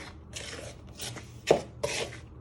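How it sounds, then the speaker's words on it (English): A knife chopping through sweet pastry mixture in a bowl for a lemon meringue pie, a few soft scraping chops with one sharper knock near the middle, quiet and close. "Do like a chop action, get it all round."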